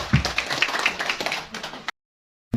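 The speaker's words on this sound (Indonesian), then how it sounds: "Tepuk tangan untuk kita semua." A burst of clapping from a crowd at a political party meeting, dense and fairly loud, lasting under two seconds before cutting to silence.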